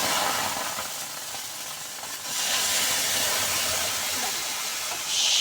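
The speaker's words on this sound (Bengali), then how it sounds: "এবার দিয়ে দেব দুধ জাল করে রেখেছিলাম লিকুইড দুধ দুধটা দিয়ে দেবো" Liquid milk hits a pan of vermicelli fried until red for semai payesh and sets off a loud, steady hissing sizzle that swells midway and again near the end.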